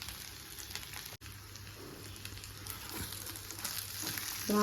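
Chicken gravy simmering in a pan while cooking a traditional Kerala-style chicken dish, a faint, steady sizzle and bubbling with a brief break partway through and slightly louder crackling toward the end.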